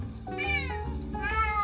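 A cat meows repeatedly at other cats on a TV screen, giving a series of clear, close, drawn-out meows with rising and falling pitch, heard alone without talk.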